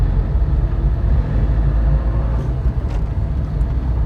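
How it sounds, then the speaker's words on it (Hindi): Maruti Esteem car driving with a steady, low exhaust drone and road rumble throughout, close and continuous with no talking. "एग्जॉस्ट मुझे मेरी फैमिली एस्टीम की याद दिला देता है"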